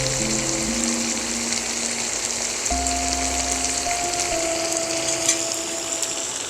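Water, about three cups, poured steadily into a cooking pot for spicy Tom Yum soup: a continuous close rushing splash with a faint ringing tone that shifts partway through.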